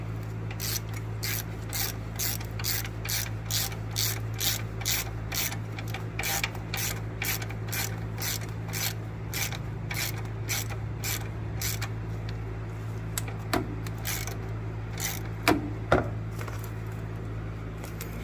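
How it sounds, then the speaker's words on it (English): A hand tool ratchets steadily while tightening the drive belt on a 2001 Nissan Frontier 3.3L during a thermostat replacement, giving close, even clicks with a low engine-bay hum and a couple of sharper knocks near the end. "we're gonna tighten this belt up first"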